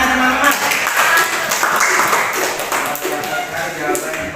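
Classmates applaud together after a student's presentation in a classroom session, a steady dense burst of clapping that fills the room, with voices mixed in.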